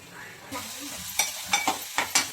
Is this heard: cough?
no